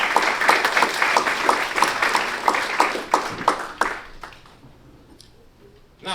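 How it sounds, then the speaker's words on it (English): A crowd at a boxing and combat sports awards event applauds trainer Bo Mack with loud, dense clapping that carries for about four seconds, then thins to a few scattered claps and fades out. "So let's go ahead and give a round of applause to Mr."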